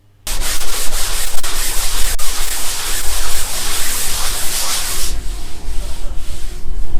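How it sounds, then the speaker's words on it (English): Light hand sanding with 120-grit sandpaper over barrier coat on a boat hardtop: a steady, close, scratchy rubbing that runs continuously for several seconds with no voices. "in between each coat, I sand it just lightly with 120 grit"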